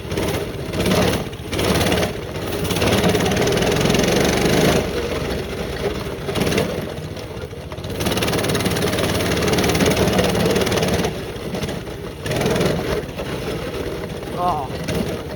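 Four-wheeler or mini bike engine idling with a steady low rumble, close to the microphone and continuous throughout, while a person talks over it at intervals.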